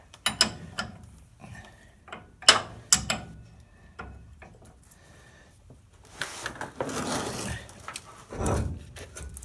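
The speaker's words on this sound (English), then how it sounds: "So let me put a 3/4 wrench on there and see if I can just turn them from here." A 3/4 wrench works on steering gear box bolts under a vehicle, giving sharp metallic clicks and clanks in irregular bursts, followed by scraping and grinding as a bolt loosens, close and alone.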